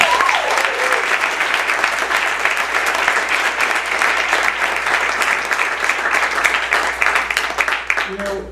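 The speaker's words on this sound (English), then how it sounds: "How about a round of applause for Cinefamily?" A crowd at a film Q&A screening applauds for Cinefamily with sustained, dense clapping that stays loud for several seconds, then tapers off near the end. Faint voices mix in briefly.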